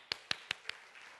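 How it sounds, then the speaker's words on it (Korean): A few sharp hand claps from a church revival gathering for the whole family ring out at an even pace, four crisp, distinct claps before a quiet room tone. "박수."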